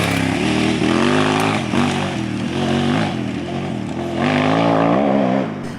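A KTM 990 Adventure motorcycle's big twin engine revs hard and steadily, loud and close, with a rising and falling drone and a brief surge of throttle near the end.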